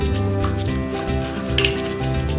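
Mustard seeds crackle and sizzle in about two spoons of hot oil in a pan on a stove, a loud, close, continuous frying spatter with no talk.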